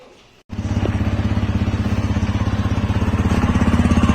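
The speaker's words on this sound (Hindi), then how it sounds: "पहले दोनों के एग्जॉस्ट नोट सुन लेते हैं।" Small commuter motorcycle, a Hero Splendor or TVS Radeon, starting up and then idling with a steady, rapid thumping exhaust putter, close and even in rhythm after a short quiet lead-in.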